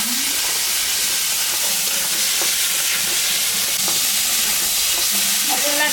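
Spices with salt and turmeric being stirred and fried in a pan for a potol paneer curry: a loud, continuous hissing sizzle with a few scraping strokes of the spoon, close up and without speech.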